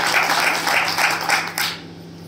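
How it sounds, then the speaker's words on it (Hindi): An audience at a BJP active members' conference in Tirodi claps in loud, rhythmic unison bursts, then the clapping fades out quickly. "अरे एक बार जरा विश्वेश्वर भैया के लिए तालियां बजा दो।"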